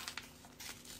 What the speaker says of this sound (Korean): 가운데를 접어주고 아까와 마찬가지로 가운데를 찢어줍니다.